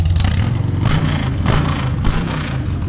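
A Harley-Davidson Night Train motorcycle with freshly fitted exhaust pipes revs in several quick, throaty bursts close by, a loud, uneven burble between blips with no talking.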